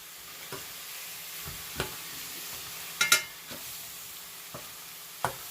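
Garlic-powder-seasoned pork chops fry quietly in a pan with a faint steady sizzle, broken by a few sharp utensil taps and scrapes, one brief cluster of crackling pops near the middle.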